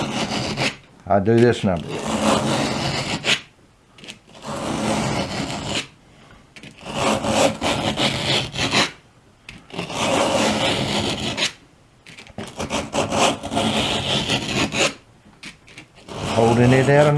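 A dull knife edge is rubbed against 120 grit abrasive at roughly a 20-degree angle to form a convex edge, giving repeated rasping strokes in bursts, close up and alternating with someone talking.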